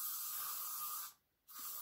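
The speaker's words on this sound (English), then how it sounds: "A little bit of spray." Aerosol spray hisses steadily onto a wig being bleached at home, a close, continuous burst that pauses briefly near the end before a second short spray resumes.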